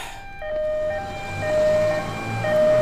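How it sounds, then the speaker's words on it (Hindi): An ambulance siren wails in a steady rising-and-falling tone, fairly loud and close, with a low rumble of traffic underneath. "वो एम्बुलेंस तुम्हारे पापा को लेने आई थी"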